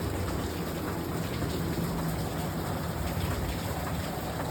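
Steady rain falls on Christmas Day, a dense broadband hiss of drops with a faint low rumble underneath and no voices.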